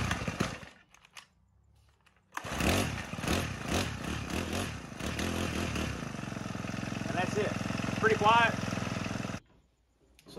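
A Husqvarna 324L four-stroke string trimmer is pull-started and runs: after quiet handling and a pull, the small engine catches, sputters, then revs loudly and steadily up close for several seconds before cutting off.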